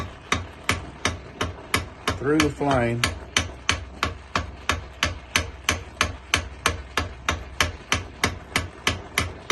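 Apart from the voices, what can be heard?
hammer forging hot mild steel knife spacer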